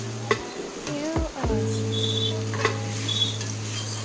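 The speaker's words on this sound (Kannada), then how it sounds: "ಅರಿಶಿನ ಪುಡಿ ಹಾಕಿದ ತಕ್ಷಣ ಸ್ವಲ್ಪ ಚೆನ್ನಾಗಿ ಮಿಕ್ಸ್ ಮಾಡ್ಕೊಳ್ತಾ ಇದ್ದೀವಿ" Mushroom potato pulao stirred with turmeric powder in a cooker, a spoon scraping and clinking against the pot over a low, steady sizzle, close and moderately loud.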